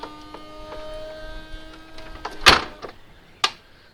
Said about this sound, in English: Rear lid is soft close also.